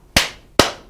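Two sharp hand claps land about half a second apart in a dance count, each crisp and close with a quick decay, no talking.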